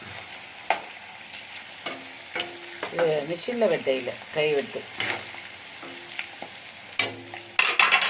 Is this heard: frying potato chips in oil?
yes